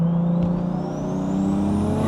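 Engine of a rebuilt manual car on the road, a steady droning note climbing gradually in pitch as it pulls through a gear, close and continuous with no talking.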